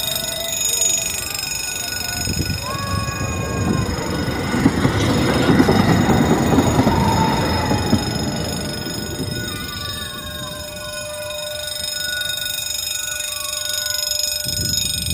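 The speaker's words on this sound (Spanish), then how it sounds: "¡Ahí viene el tranvía!" A tram rumbles past with steady rail noise that swells toward the middle and fades, faint wheel squeal and tonal whines above, while people talk nearby.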